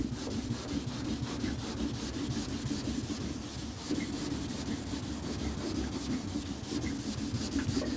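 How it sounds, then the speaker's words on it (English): Rhythmic back-and-forth rasping of a sanding block on a surface, close and steady, repeating with no talk. "So now what we're going to do is just keep on sanding."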